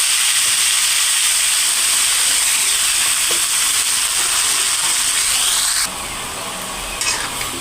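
Chopped thankuni leaves frying in a pan with potato, onion, garlic and green chili, a loud steady hissing sizzle that drops sharply toward the end, with faint stirring scrapes.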